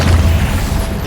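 A Confringo fire spell in Hogwarts Legacy bursts in a brief, loud, deep booming explosion that rumbles and fades within a second.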